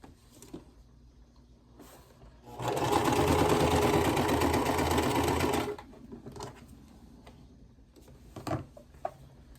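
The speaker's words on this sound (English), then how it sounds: "We're gonna sew this end to this end." A sewing machine runs in one steady, loud burst of about three seconds as it stitches two ends of a crochet block together, with quiet handling noises before and after.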